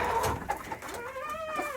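Chickens cluck and a rooster gives a short crowing call, close by and fairly loud, with several overlapping bird voices.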